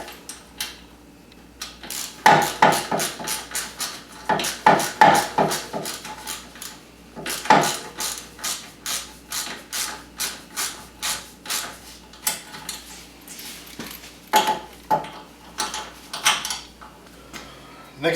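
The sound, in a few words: loosening brake line clip bolts on a 2015 Wildcat Sport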